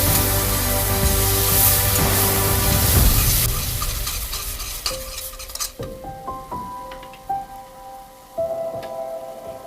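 A ginger, garlic and tomato paste hisses loudly in hot oil in a pan, the sizzle easing off partway through to quieter bubbling with occasional clinks of a utensil.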